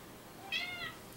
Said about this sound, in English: my cat's in the room.